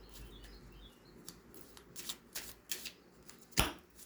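Tree Keeper's Oracle cards are shuffled in a series of quick, crisp riffling flutters, soft at first and then several sharper bursts ending in a loud snap, with no talking.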